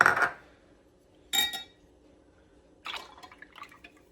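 Beaten egg poured into whole milk and evaporated milk for baked macaroni and cheese, three brief bursts of liquid splashing and dripping into a dish, quiet and close with pauses between them.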